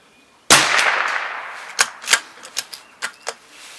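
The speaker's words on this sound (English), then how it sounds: "So we'll just shoot another 10 rounds, complete this target with Eley club" A CZ457 .22lr rifle firing Eley Club ammunition outdoors: one sharp close shot, then a quick run of smaller cracks and clicks from the action, all fading quickly with no talking.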